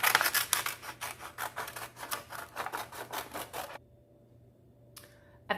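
Scissors snip through a brown paper bag to cut out circles, a quick regular run of crisp close cuts and paper rustle that stops abruptly, followed by near silence and one faint rustle.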